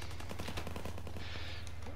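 Rapid automatic gunfire from Call of Duty WW2, a dense, continuous burst of shots that stays loud and close for the whole two seconds, with no speech over it.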